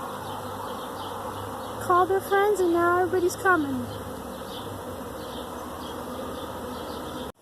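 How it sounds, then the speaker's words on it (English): Honey bees swarm into an old hive outdoors, a faint continuous buzzing hum under a person talking, with a few nearer passes of individual bees. "But you can see the bees all over."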